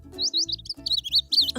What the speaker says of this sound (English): I found a baby bird.